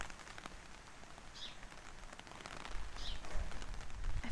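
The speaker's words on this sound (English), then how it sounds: "I felt like the rain sounds are not as loud now as they were" Soft, steady rain patters on surfaces outdoors, a quiet continuous hiss with scattered drips that swells slightly toward the end.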